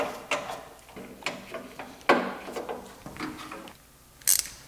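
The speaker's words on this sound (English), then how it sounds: "I'm just gonna install this little bolt here." Small bolt being fitted during a Honda S800 rebuild, heard as a series of close, light metallic clicks and taps with ratchet-like ticks spaced irregularly, ending in a sharper bright click.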